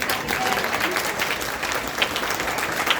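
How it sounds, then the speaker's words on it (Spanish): An audience at a workshop bursts into applause, a dense, even patter of many hands clapping close by for a few seconds. "Un aplauso, por favor"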